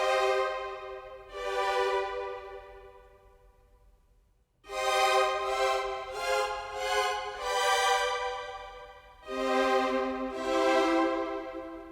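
Muted orchestral strings from the Orchestral Tools Berlin Con Sordino library playing a portato phrase of soft, swelling notes that are separated yet connected, with a pause partway through and no talking.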